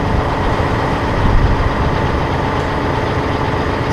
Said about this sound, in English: once you have the tractor started, parking brake on, we've got it at idle speed